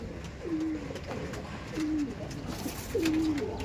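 Madras pigeons kept in a coop for sale coo three times in low drawn-out calls, spaced about a second apart over a steady background hum.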